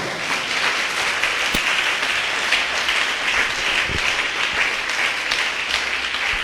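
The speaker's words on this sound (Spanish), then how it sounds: "Dele un aplauso al Señor" A church congregation applauds during a Spanish-language sermon, a steady, dense wash of many hands clapping together that holds evenly throughout, with an occasional sharper clap standing out near the front.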